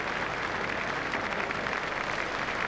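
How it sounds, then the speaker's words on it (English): A cricket crowd at a one-day international between Kenya and Australia stands and applauds, a steady wash of clapping heard from a distance. "Crowd are standing to applaud him."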